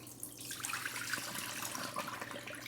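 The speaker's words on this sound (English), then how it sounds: "I'm gonna drain this water" Soaking water is poured off dried chickpeas that were soaked for hours, giving a continuous close splashing and gurgling rush of liquid throughout.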